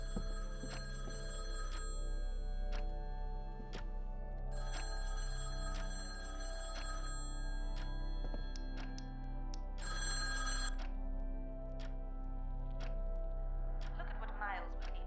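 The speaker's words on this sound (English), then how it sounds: "Oh, that's a phone ringing." A telephone rings inside the video game Fourth Time Around, in three separate bursts of trilling bell tones over a quiet, droning game soundtrack.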